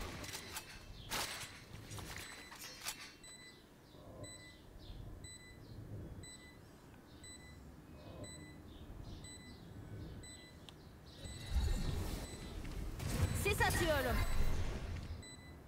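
The planted spike in Valorant beeps in a steady, evenly spaced series of faint electronic tones. Players talk over it, and a louder burst of game noise follows near the end.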